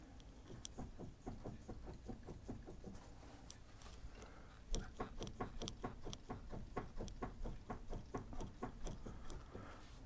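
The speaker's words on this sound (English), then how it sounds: "the scratching noises you hear is just a brake rotor and caliper." A brake rotor on a hand-turned 4th-gen Camaro front wheel scratches against its caliper, giving a quiet, rapid, regular scraping rhythm that pulses with each rotation.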